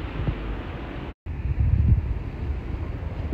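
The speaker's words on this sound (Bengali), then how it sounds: "প্রচুর ঠান্ডা বাতাস, বৃষ্টি, বরফ সব একসাথে।" Cold wind carrying rain and snow blows across a balcony in Italy, heard as a low, rumbling buffet of wind on the microphone that swells and eases, with a short dropout and no voices.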